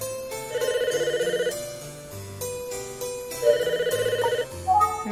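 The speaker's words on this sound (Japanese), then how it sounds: "電話が 鳴った。" Electronic telephone ring from the Famicom Detective Club detective game, two bursts of warbling chiptune tones over soft game music, no voices.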